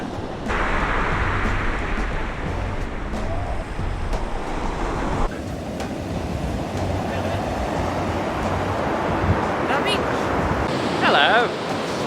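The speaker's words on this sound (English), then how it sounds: "What a lovely beach." Surf rolling onto Rarangi Beach under a rainy sky, a steady loud wash of waves with wind buffeting the microphone throughout.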